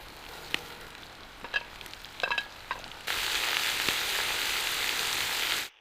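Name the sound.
carrots frying with onions for Uzbek plov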